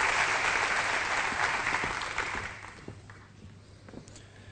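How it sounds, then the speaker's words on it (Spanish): An audience applauds at a lecture on a new civil and commercial code, loud clapping at first that gradually thins out and fades to scattered claps. "Les pido un fuerte aplauso."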